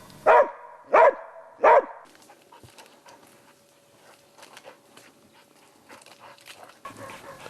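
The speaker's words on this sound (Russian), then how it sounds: "Азарт гонит туда, на звук лая." Three loud, close barks from a hunting dog that has treed a sable, in quick succession, followed by quieter rustling and faint movement sounds outdoors in Yakutia.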